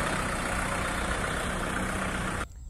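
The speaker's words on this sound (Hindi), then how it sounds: "यह है कुबोटा एम यू पैंतालीस जीरो एक फोर व्हील ड्राइव का ट्रैक्टर है" A Kubota MU 4501 four-wheel-drive 45 HP tractor idles close by, a steady, dense diesel rumble that cuts off abruptly near the end.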